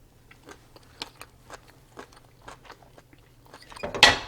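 Paprika chicken and broccoli flatbread being bitten and chewed close up, with a steady run of soft crunchy chews that builds to a louder, crisper crunch at the end, with no talking.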